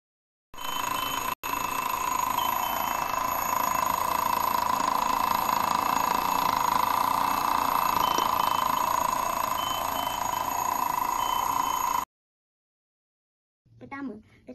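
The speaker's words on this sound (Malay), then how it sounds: "apabila jam loceng berbunyi" A loud, continuous electronic alarm clock tone rings steadily for about eleven seconds, then cuts off, followed by a brief burst of another sound.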